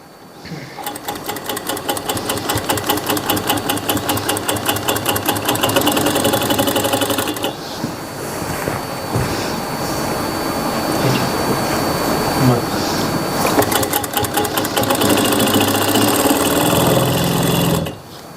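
A sewing machine stitches gum piping onto a Punjabi suit, its motor running as a loud, close, continuous whir through the whole stretch, changing in tone slightly midway.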